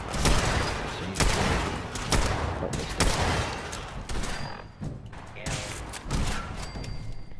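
Repeated pistol shots in the game Fallout 4, sharp loud reports in an uneven rhythm roughly every second with brief gaps, over a background of combat noise.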